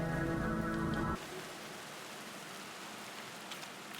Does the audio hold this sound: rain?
yes